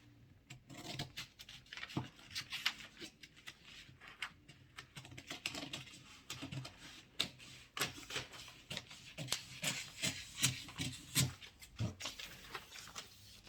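Scissors cutting through a paper corset pattern, a quiet run of irregular snips and crisp rustles, close by with short pauses between cuts.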